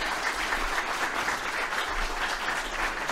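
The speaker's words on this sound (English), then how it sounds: "let's give him a great round of applause and a welcome to St. Benedict Center" A steady round of audience applause welcomes a guest speaker at a Catholic center, even, continuous clapping from a moderately distant crowd with no voices over it.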